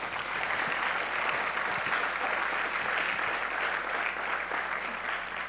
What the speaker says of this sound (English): let's give a huge round of applause for our innovators